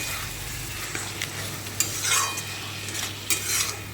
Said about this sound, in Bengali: পেঁয়াজটা দিয়ে খুব ভালো করে এবার কষে নেব